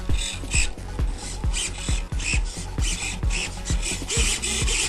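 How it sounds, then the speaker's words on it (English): Servos on a Firebird Phantom RC plane driving the V-tail surfaces, a rapid series of short whirring buzzes and clicks, close and fairly loud, repeating about twice a second. "up and down moves both tail surfaces up and down back there"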